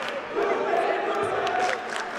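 A crowd fills the gym at a girls' varsity high school basketball final between South Hadley and the Pittsfield Generals: a steady, dense roar of many voices and cheers, with voices audible within it.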